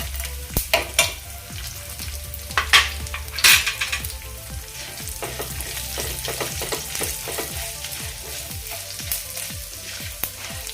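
Urad dal and chana dal sizzle and crackle in hot oil while tempering for instant rava idli, a steady close frying hiss scattered with sharp pops and a few utensil clinks.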